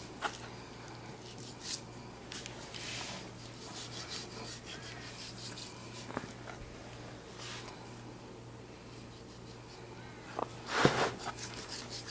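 A knife trims fat from boneless pork while butchering a pig, making soft close rubbing and scraping strokes with a few sharper knocks, over a low steady hum.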